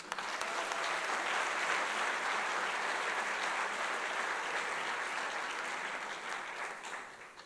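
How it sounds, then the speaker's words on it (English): At a graduation hooding ceremony, the audience gives professors a steady, full round of applause from a large crowd that holds evenly throughout and fades slightly near the close. "Let's give them a round of applause."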